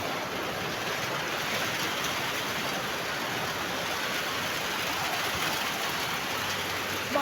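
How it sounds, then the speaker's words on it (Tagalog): Dense, steady hiss of rain pouring down, an even wash of pattering on surfaces that never lets up, with no voices. "Kita niyo naman, umuulan."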